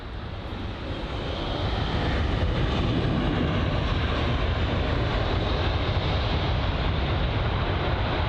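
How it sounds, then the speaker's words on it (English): A British Airways Boeing 787 Dreamliner arriving from Santiago comes in to land at London Heathrow, its jet roar swelling over the first two seconds and then holding loud and steady, with no one talking. "the British Airways 787 line Dreamliner set to land now"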